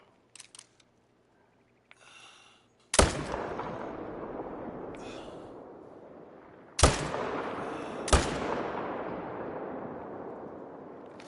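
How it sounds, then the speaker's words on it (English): Three loud, sharp rifle shots in a mule deer hunting video game, each followed by a long rolling echo that slowly fades, with faint small noises before the first shot. "I probably didn't have to shoot him right there"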